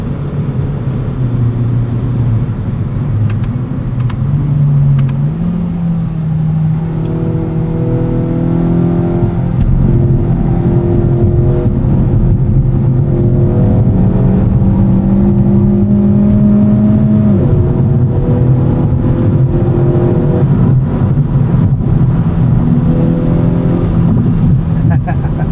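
A 2024 Kia Forte GT with a dual-clutch transmission accelerates hard in sport mode, its engine note climbing and dropping through several gear changes under constant loud road and wind roar.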